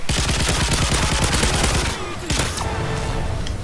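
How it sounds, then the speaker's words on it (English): An automated sentry gun in Call of Duty: Modern Warfare 3 survival mode lets off a sustained rattle of rapid gunfire, loud and continuous, then a brief lull before more shooting resumes. "the sentry gun helped a little"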